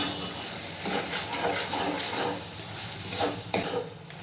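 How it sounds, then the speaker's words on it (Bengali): Masala with cashew paste being stirred and fried in a pan for dhaba-style chicken bharta, a steady close scraping and sizzling rasp with a sharper clink of the spatula near the end. "কাজু বাদাম বাটাটা দিয়ে ভালো করে মশলাটাকে কষাবো"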